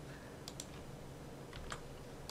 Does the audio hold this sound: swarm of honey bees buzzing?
no